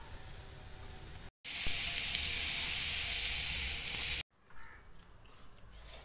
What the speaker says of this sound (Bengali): তো একটু আলু ভেজে নিচ্ছি চটপট করে